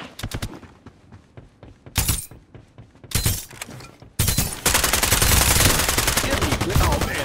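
Automatic gunfire in the shooter video game Farlight 84, with rapid bursts separated by short pauses and then a dense, sustained loud volley of shots.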